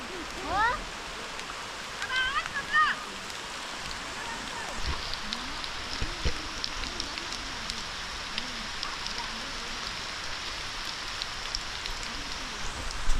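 Steady rain falls continuously on a paddy field during rice transplanting in Konkan, with a soft, even hiss, while a person talks faintly now and then underneath it.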